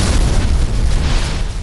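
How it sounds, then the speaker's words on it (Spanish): Sudden explosion aboard an airliner in flight, a loud, dense, low booming blast that fills the whole short moment with no pause. "De golpe hubo una explosión."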